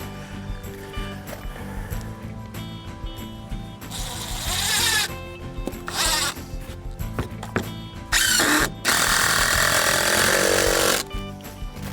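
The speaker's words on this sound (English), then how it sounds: "I'm gonna need my drill with me here." A power drill drives fasteners into a 2x4 for deck stairs, with several loud bursts of whirring and squealing separated by pauses and handling knocks.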